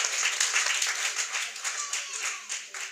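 A church congregation claps together in steady, rhythmic applause to acclaim the Lord at a French-speaking worship service, bright and close, continuing without pause through the whole stretch.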